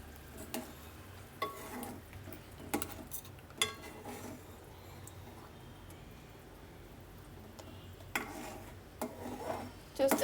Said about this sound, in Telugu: దొండకాయ అయితే మంచిగా ఉడుకుతుంది, బాయిల్ అవుతుందన్నమాట